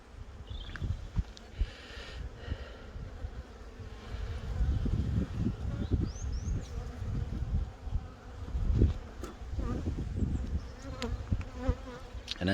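Honey bees swarm around an opened hive while it is split into an observation nucleus hive, a dense, steady buzz close by with faint handling noises.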